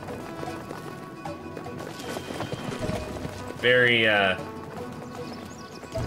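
Goat hooves clip-clop at a steady trot while two boys ride goats in the video game Brothers: A Tale of Two Sons Remake, with a voice speaking over the hoofbeats and a brief loud animal bleat.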